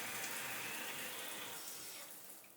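A home shower runs as a steady, dense hiss of falling water, loud and close, slowly easing off toward the end with no voices.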